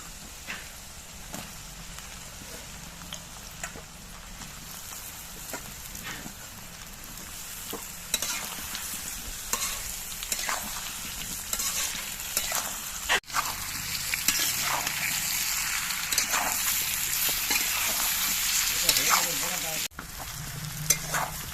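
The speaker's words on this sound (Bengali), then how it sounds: "আলু আর কচুগুলো খানিকক্ষণ ভাজা ভাজা করে নিলাম।" Potato and elephant foot yam chunks fry in hot oil while being stirred, a continuous sizzle broken by repeated scraping strokes of the spoon against the pan, moderately quiet and with no voices.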